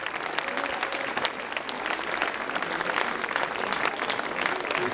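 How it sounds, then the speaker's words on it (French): Audience applause for chocolatiers at a chocolate competition during the Salon du Chocolat in Paris, steady, moderately distant clapping from a crowd throughout. "On peut les applaudir pour ce travail."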